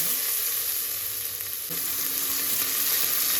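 Shallots fry in oil for a prawn head gravy, a close, even hiss of sizzling that runs without a break, with faint stirring and no voices.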